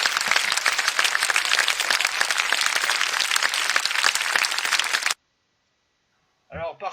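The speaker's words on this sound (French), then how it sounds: "On peut les applaudir bien fort." Loud, dense applause from a live improv match audience, steady broadband clapping for about five seconds that cuts off abruptly, followed by silence and then a short burst of speech.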